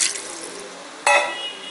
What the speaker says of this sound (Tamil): இப்போ வந்து தண்ணி வந்து ஒரு 2 டம்ளர் அளவு ஆட் பண்ணிக்கலாம்